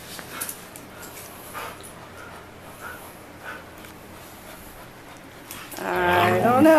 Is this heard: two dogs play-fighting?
yes